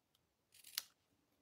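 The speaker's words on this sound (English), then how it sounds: "In fact, I'll just cut that a little bit shorter." A single quick snip of scissors trimming paper during card making, a short crisp cut heard close and alone in a quiet room.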